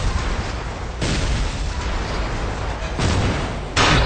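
Tanks blow up during a Battlefield tank battle, with heavy booming explosions arriving in several loud, broad bursts over a constant roar of combat.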